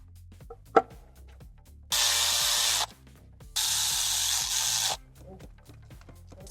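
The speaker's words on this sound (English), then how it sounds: "Bit of brake cleaner." Brake cleaner hisses from an aerosol can onto a 2018 Range Rover Velar engine in two sustained bursts of about a second each, close and loud, amid light tool clinks and quiet workshop sounds.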